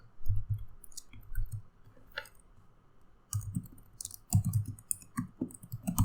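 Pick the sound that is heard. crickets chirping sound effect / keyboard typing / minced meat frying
keyboard typing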